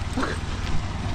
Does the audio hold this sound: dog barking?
yes